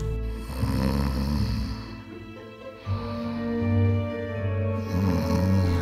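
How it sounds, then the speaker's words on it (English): Loud, drawn-out snoring rumbles over a background of music, with deep nasal snorts recurring in slow rhythm. "He heard the loud snoring and went to check on her."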